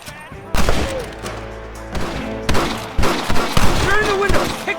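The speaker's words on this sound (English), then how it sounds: "Open fire!" Rapid bursts of gunfire from a Red Dead Redemption shootout ring out in clustered volleys, loud and close, with shouted voices and music layered underneath.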